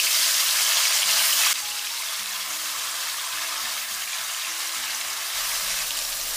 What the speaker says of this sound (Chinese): 下入锅中以后不要着急动它，给它煎至底部定型